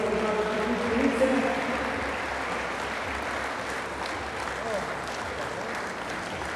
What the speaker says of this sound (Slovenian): Tako da velik aplavz za ženski košarkarski klub Konjice.